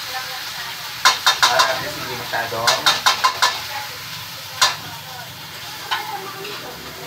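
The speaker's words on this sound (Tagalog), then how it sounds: "I-cook lang po natin ng konti ang corned beef para at least medyo luto siya." Argentina corned beef frying in a pan, with sharp spatula scrapes and clicks in quick clusters over a faint sizzle, while someone speaks throughout.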